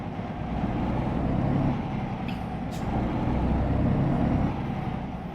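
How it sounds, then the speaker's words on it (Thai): Heavy DAF XD truck with a Paccar MX engine braking hard, a steady loud low engine and air-brake rumble running throughout with a brief higher hiss in the middle, heard from inside the cab. "โอ้โห เบรกหัวทิ่มเลย"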